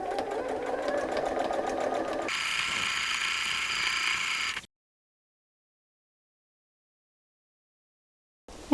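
A sewing machine back stitching while attaching a zipper, running steadily at close range for several seconds with a shift in its whirring rhythm partway through, then stopping into silence.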